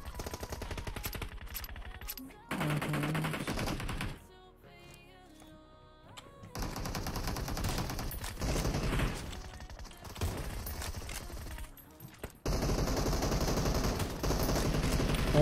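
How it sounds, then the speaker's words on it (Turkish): Gunfire rattles through a PUBG Mobile match in loud, continuous automatic bursts with brief gaps between them, busy and close throughout. "Kim sıkıyor bana?"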